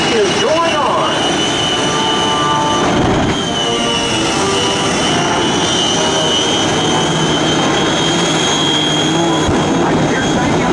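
A jet aircraft flies at a Shockwave 2016 airshow, making a loud, sustained roar with a high whine that stays steady and fills the whole stretch.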